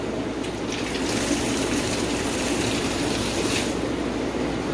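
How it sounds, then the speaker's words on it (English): Water runs steadily through tubing into the tanks of a fish room stocked with wild-caught fish, a continuous close rushing flow with no voices. "But I just turn the water on."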